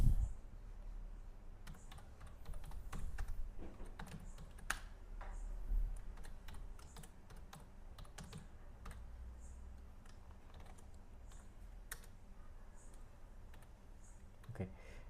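Rapid clicking keystrokes on a computer keyboard as a Java program is typed into a text editor, steady and close with occasional louder taps, running alone without talk.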